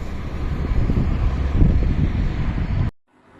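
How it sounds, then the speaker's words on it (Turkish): Strong wind buffets the microphone with a loud, rumbling roar that gusts steadily, then cuts off abruptly near the end. "beni çok rüzgarlı bir gün karşıladı"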